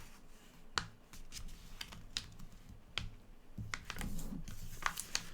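Crisp paper crinkles and sharp creasing snaps as a MAD magazine fold-in page is folded, a quick irregular series of close, quiet rustles.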